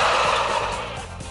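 A flock of turkeys gobbling loudly in a dense, continuous chorus of overlapping calls, close by and with no talking.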